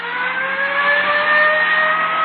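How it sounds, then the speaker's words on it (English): A dark Chrysler sedan with a dented left fender passes close by, its engine a steady mid-pitched drone that swells slightly and holds for a couple of seconds with no talk over it. "The car that just passed us. Yeah? Dark Chrysler sedan, dented left fender."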